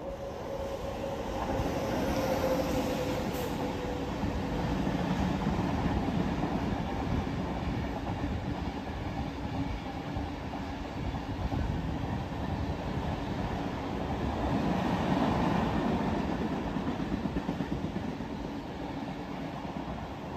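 An air-conditioned suburban local train in Chennai running steadily on rails, a continuous rumbling rush with faint clickety-clack and a thin high whine throughout, no talking.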